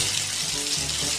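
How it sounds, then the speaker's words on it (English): Steady shower water running in a bathroom, a continuous close hiss of spray that fills the whole short stretch without any voices. "So I went back to the bathroom to take a shower."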